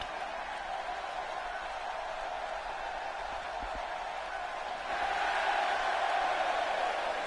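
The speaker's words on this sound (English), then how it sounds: "Mixed reaction from the crowd here tonight." In the WWE 2K16 wrestling game, a virtual arena crowd gives a steady wash of cheering and murmur that swells louder partway through.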